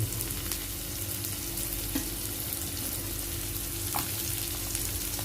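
Carrots hit a hot frying pan and set off a steady, dense sizzle that holds evenly throughout, close and fairly loud, with no talk over it.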